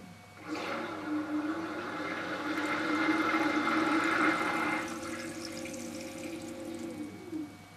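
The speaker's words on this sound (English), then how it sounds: "I'm going to activate the pump again." A Speidel Braumeister brewing machine's pump runs with water gushing and bubbling, a continuous rushing flow that eases off toward the end.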